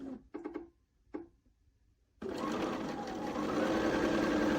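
Sewing machine stitching quilt squares: a few soft clicks and handling noises, then a sudden steady, fast whir that runs continuously to the end, close and fairly quiet.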